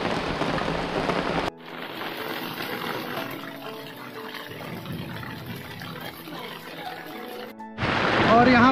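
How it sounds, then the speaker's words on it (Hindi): Heavy rain pours steadily at Nine Arch Bridge in Ella, Sri Lanka, a dense, close hiss on a sheltering surface, with louder bursts at the start and end of the stretch. "लेकिन हो रही है जोर की बारिश।"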